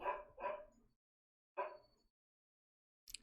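A loud female dog indoors gives two quick barks, then a single bark after a pause and a short sharp yip at the end, close and clear with silence in between.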